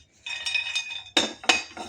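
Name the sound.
cashews being added to a pan for roasting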